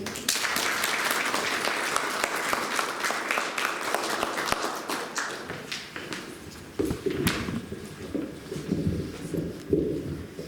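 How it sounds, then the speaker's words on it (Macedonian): An indoor crowd at the opening of a memorial room museum for Radio Demir Hisar claps warmly and steadily, then the applause thins into scattered claps and fades. "Со аплауз, ве молам да го поздравиме еден од основачите на Радио Демир Хисар и авторот на овој проект, господинот Благоје"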